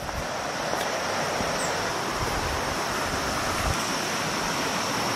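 The El Durazno river flows past a campsite in La Florida, a loud, steady broadband rush of water heard close and continuous with no voices over it.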